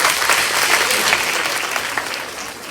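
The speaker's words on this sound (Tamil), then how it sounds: "கைதட்டுறேங்க." A school audience at a Thirukkural book fair claps steadily for students, a dense, close burst of applause that fades a little toward the end.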